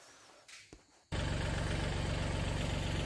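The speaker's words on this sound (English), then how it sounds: "get the tractor out, get it warmed up" A tractor engine idling as it warms up before foliar fertilising of jackfruit trees; after about a second of quiet background it starts running loud and close, holding a steady, throbbing low idle to the end.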